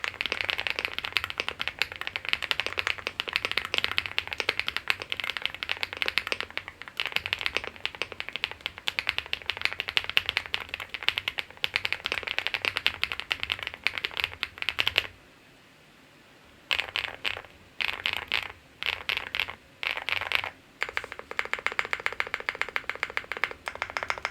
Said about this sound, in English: So here's the stock typing sound test.